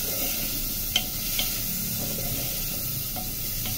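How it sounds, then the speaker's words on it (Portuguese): Food frying in olive oil gives a steady close hiss and crackle, with a few sharp pops and faint stirring clicks, and no talking. "Então, ó, tá fritando. Como coloquei o azeite, acelerou um pouquinho."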